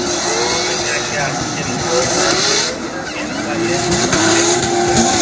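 Drift cars race through the outer zone of a Klutch Kickers round 4 event, engines roaring and tires squealing continuously, loud and sustained, while a commentator talks over the noise.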